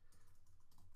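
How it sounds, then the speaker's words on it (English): Someone types on a computer keyboard: quiet, rapid, steady keystrokes that run through the whole moment with no one speaking. "I'll type the name"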